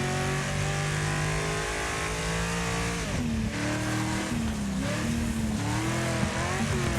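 Car engine in the racing game Wreckfest revving and climbing through gears, a loud continuous drone that drops and rises at each shift, with tire noise mixed in.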